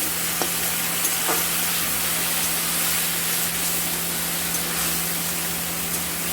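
Onion, chili and ginger paste sizzles steadily in a hot pan for a peas-and-egg ghugni, a continuous broadband hiss with a faint electrical hum beneath and a couple of soft stirring clicks, no voices.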